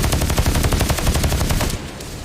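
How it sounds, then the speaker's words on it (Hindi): Rapid gunfire during a dacoit shootout in the Chambal ravines, a fast loud burst of repeated shots like an automatic weapon, running steadily before cutting off near the end. "पहली गोली चली है"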